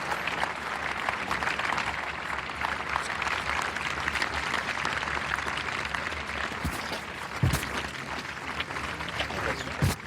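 Sustained applause from a large outdoor crowd greeting the Paris firefighters at the Bastille Day military parade, a steady broadband wash of clapping with a few louder thumps near the end.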